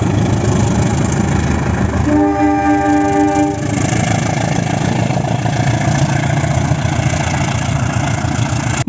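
A wooden CC201 toy locomotive with a train sound effect playing, a steady engine-like rumble with a sustained horn tone lasting about a second and a half partway through.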